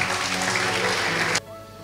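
A church congregation applauds and acclaims during a service, steady dense clapping that cuts off abruptly after about a second and a half, leaving a quiet room.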